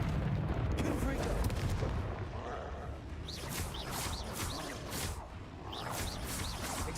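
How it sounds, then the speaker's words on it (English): Confringo blasting spell cast in the Hogwarts Legacy game, a dense roaring burst of fiery explosive noise that rumbles continuously, with sharp crackling bursts layered on top and speech nearby. "Confringo."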